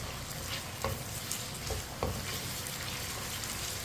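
Potatoes frying over medium heat in a pan for aloo tori curry, a steady close sizzle with occasional spoon stirs and clinks against the pan.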